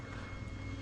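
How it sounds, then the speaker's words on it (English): A loud, steady motor roar with a constant whine on top, like a leaf blower running close by, with no voices. "use the leaf blower for some reason"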